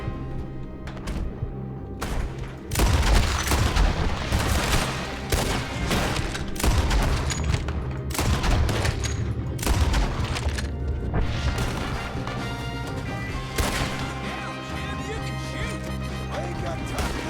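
Gunfire from a Red Dead Redemption 2 shootout, a dense barrage of overlapping shots and impacts that runs loud and steady throughout, with voices and game sound mixed in.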